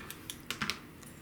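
Rotary or scissor cuts through fabric corners on a quilt block, heard as a few quiet, sharp clicks and snips spaced irregularly over a near-silent background.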